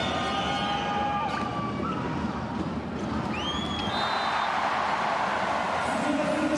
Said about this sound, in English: Siren sound. Distraction tactics.